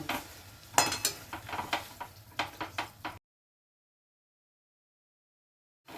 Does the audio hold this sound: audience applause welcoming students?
no